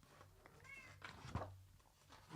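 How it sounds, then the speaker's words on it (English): A house cat meows faintly indoors, a couple of short soft calls within a quiet room with a low background hum. "I hear you, my cat."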